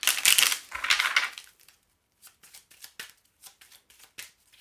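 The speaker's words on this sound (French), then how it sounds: "On va faire un tirage à 9 cartes." Lenormand cards being shuffled and laid out for a nine-card spread: a loud riffling shuffle at the start, then a series of short, close card taps and slaps at an uneven rhythm.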